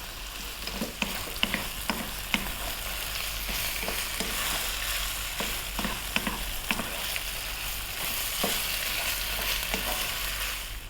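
Cooked pasta being stirred through a chicken, bacon and garlic cream sauce in a pan, giving a steady soft sizzle with repeated scraping clicks of the utensil, close and continuous without any talk.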